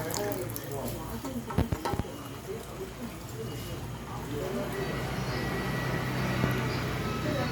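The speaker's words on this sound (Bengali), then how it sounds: "এই দেখুন জলের স্পিডটা বেশি লাগছে, জলের স্পিড ভালোই আছে" Water runs fast and steady from a newly plumbed basin tap point, a continuous near splashing hiss with a few brief clanks early on, under a voice.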